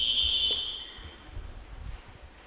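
An electronic quiz buzzer sounds during a national championship quarter-final quiz: a single piercing high-pitched tone that holds for about a second, then fades into quiet room noise.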